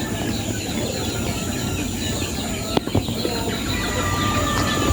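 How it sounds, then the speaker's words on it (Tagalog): Chickens cluck steadily at a small, clean backyard coop, a low busy murmur of hens filling the space with a brief knock or clatter near the middle. "hinaharap ko na lang po dito sa mga manok"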